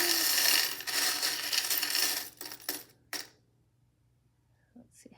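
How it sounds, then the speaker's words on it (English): Small charms spilling out and tumbling onto a surface, a dense clattering rush of tiny tinkling impacts that thins into a few scattered clicks, then near silence. "how do the charms want to fall out"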